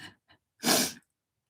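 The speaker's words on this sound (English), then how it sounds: "You know when you go to sneeze and then you can't sneeze?" A couple of short, quick breaths followed by one sharp, breathy burst, like a sneeze that doesn't fully come out, then silence.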